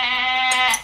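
A young black goat kid gives one short, high, wavering bleat, loud and close, with nothing else heard.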